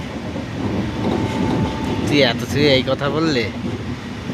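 A train runs on its rails with a steady, loud rumble and clatter of the carriage, while people talk close by over the noise.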